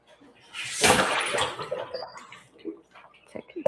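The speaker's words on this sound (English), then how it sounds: "So I'm gonna give it another little rinse." Food is rinsed under a running kitchen tap, a loud gush of water for about a second that fades into splashing and small drips.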